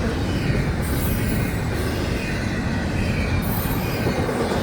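A big train rolls past close by, a steady loud rumble of railcars with wheels squealing against the rails throughout, unbroken from start to finish.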